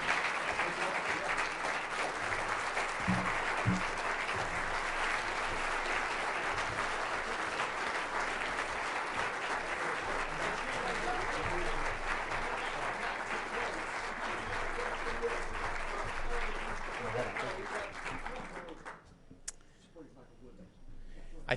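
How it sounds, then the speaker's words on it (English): Sustained applause from a large audience at a political summit in Washington, dense and steady for most of the stretch before cutting off abruptly near the end. "Always good to end on a round of applause."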